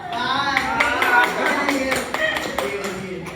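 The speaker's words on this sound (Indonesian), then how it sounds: "Tepuk tangan lo, tepuk tangan." Students clapping hands in a classroom during a research methodology lesson, a burst of sharp claps mixed with children's and adults' voices talking over them.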